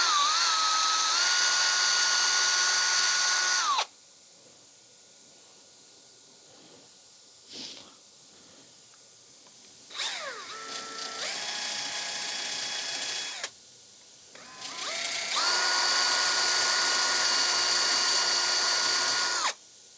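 A power drill spins an engine valve to clean it, whining in three separate bursts that start and stop abruptly, with a rising pitch as it spins up, separated by near-silence and a brief clunk.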